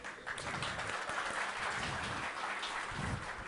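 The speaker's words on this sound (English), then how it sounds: "please give us a round of applause for Anthony from Chef" Applause from a conference audience welcoming a sponsor's speaker, steady dense clapping at moderate distance, fairly quiet and continuous with no talking.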